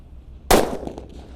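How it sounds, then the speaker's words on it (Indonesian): A single black 'colorful sweater' firecracker going off outdoors: one sharp, loud bang that cuts through a quiet background, followed by a short crackling decay and faint scattered pops. "Kalau ini mercon colorful sweater ya, warna hitam guys."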